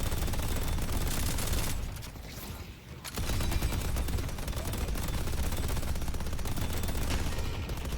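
Continuous dense automatic fire from guns and deployed turrets pounding a tower in the game Deadlock, loud and steady with a brief lull partway through, with no voices.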